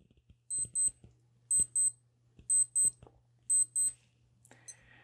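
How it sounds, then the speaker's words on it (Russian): A Casio G-Shock GA-700SKE-7A digital watch alarm beeps in quick high-pitched pairs, repeating four times with steady spacing, faint against a low background hum. "Будильник, кстати, будет звучать таким образом."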